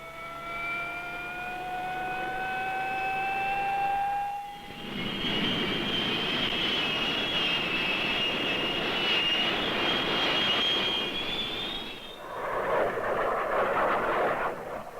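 A military jet roars in for close air support over Vietnam, a loud sustained engine wash with a rising high whine, briefly dipping before swelling again and thinning toward the end.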